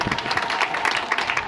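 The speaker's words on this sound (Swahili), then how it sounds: "Tupigieni makofi mengi sana." A crowd at a May Day workers' gathering applauds the employers, a dense, steady patter of many hands clapping close by with no voices over it.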